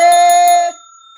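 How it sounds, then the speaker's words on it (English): A bell sound effect rings out loud and close, one bright struck tone with rapid shimmering repeats that holds for about half a second, then cuts off and leaves near silence. "Yeah, you deserve the bell, baby."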